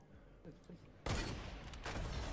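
Rapid automatic gunfire in the video game Fortnite, a loud dense burst that starts abruptly after a short quieter lead-in and keeps crackling to the end, with a voice briefly heard early on.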